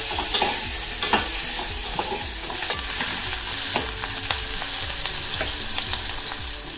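Green chillies and raw tomatoes sautéing in a pan, a steady close sizzle broken by repeated scraping strokes of a spoon stirring them round at an even, quick pace.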